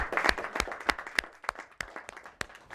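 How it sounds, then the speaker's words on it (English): Audience claps at a studio launch event after a panel discussion, a brief round of applause with sharp, uneven individual claps fading toward the end. "Big round of applause."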